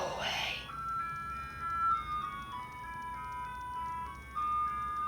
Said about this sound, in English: Horrible ice cream truck noise.